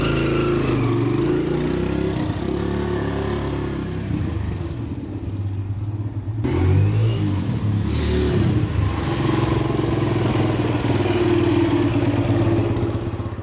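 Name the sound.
dirt bike engine revving on a test drive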